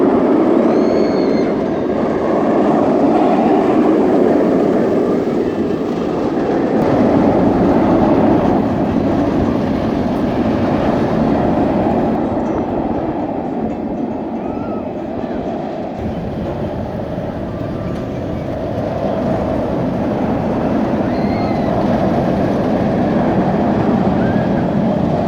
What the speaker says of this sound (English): I do love the way these coasters sound, particularly when it's set up in the mountains like this.